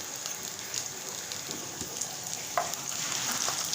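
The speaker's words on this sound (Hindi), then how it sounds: "हम इसमें लहसुन डाल देंगे।" Garlic dropped into hot oil already crackling with cumin and mustard seeds, while cooking same beans, gives a steady close sizzle and fizz with a sharper burst of spitting partway through.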